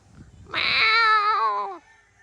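A single drawn-out cat meow, loud and close, rising then sliding down over about a second, with quiet background before and after.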